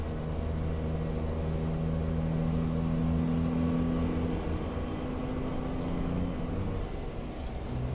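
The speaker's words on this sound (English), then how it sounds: "You'll hear some rattles in the old truck every now and then now." Steady road noise and engine drone inside an old truck on a highway in American Truck Simulator, running a 10-speed at about 65, with occasional cab rattles and a rush of wind, continuous and fairly loud with no talking.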